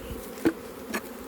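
Honey bees buzz steadily around an open hive as a new super goes on, a continuous close drone with two brief louder bumps, and no voices.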